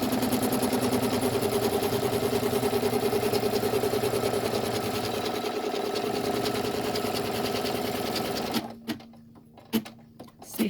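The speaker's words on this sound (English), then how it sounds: "I'm going to run that next stitch, and it's going to stitch it down" A sewing machine runs steadily at close range, stitching a double zip splash bag with a continuous whirring hum, then stops and gives a few short bursts.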